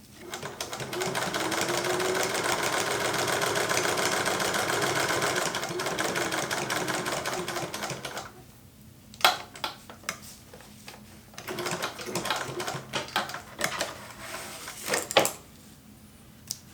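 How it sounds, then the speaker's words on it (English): A sewing machine stitches a fold down to zipper tape in a steady, continuous mechanical whir for about eight seconds, then stops, followed by sparse clicks and handling noises close by. "And then you can just sew that fold to your zipper tape."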